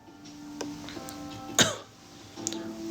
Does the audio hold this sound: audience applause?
no